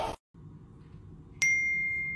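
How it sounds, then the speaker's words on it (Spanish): A phone notification chime rings out as a short bright ding that sustains briefly after a quiet background hum, with no talk. "¿Será que el señor le puede quitar ese sonidito a su teléfono?"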